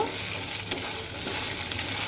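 Whole spices frying in hot oil in a wok for a Bengali soybean curry, giving a steady broadband sizzle throughout with a couple of brief stirring scrapes, close and continuous, with no talking.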